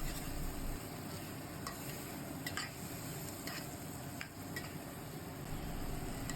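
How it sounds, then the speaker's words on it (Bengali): Potatoes and poppy seed paste being stirred in a frying pan, a steady sizzle under scattered scrapes and clicks of the spoon, close and fairly quiet throughout. "এখন পোস্ত আর আলুটাকে মিক্স করে নিচ্ছি ভালো করে।"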